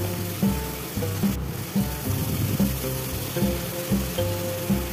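A spice mixture with sugar sautéing in a pan for a vegetable curry, a soft sizzle under a low steady hum, with periodic dull scrapes and stirring thuds recurring about every half second, close by.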